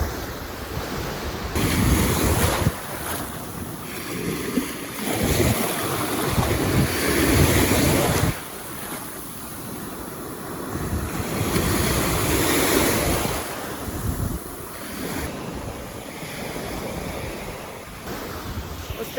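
Rough Black Sea surf at Karolino-Buhaz crashes and churns continuously, with gusts of wind buffeting the microphone; the roar swells and eases in waves throughout.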